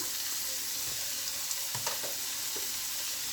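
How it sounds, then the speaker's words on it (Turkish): Sliced potatoes fry in hot oil, giving a continuous close, even sizzle with a few faint clinks and splashes scattered over it. "Şimdi önce patateslerimi kızartıyorum."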